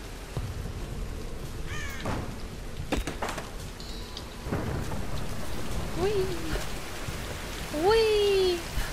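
Rain patters steadily under rumbles of thunder in the video game Tomb Raider (2013), with bird-like chirps and electronic swoops on top.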